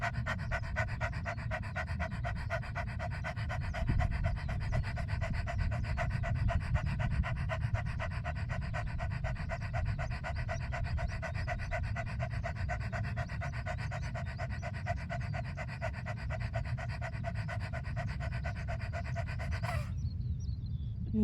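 A person performs dog-breathing pranayama with the tongue out, imitating a dog's panting: rapid, steady, close breaths that go on continuously for about twenty seconds, then stop abruptly.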